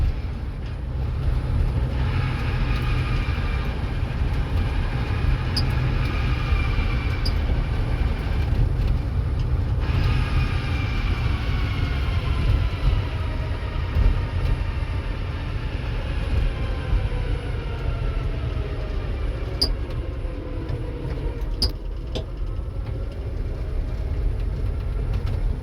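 A vehicle engine idles roughly in first gear at about 25 mph, a steady low rumble with a continuous drone lasting throughout, loud and close with no talking.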